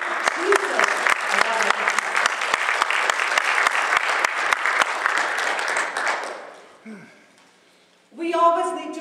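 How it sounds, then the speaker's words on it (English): A church audience at a multiracial family celebration claps in dense, sustained applause for about six seconds, then it fades out and a voice speaks briefly afterward. "Give yourself a round of applause."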